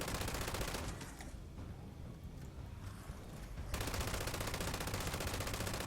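A light machine gun fires from the hip in Fallout 76, rapid continuous automatic bursts that dip into a short quieter stretch of scattered shots, then resume at full, steady rattle, with no talking.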